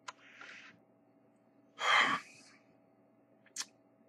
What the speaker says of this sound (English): And the yawning begins.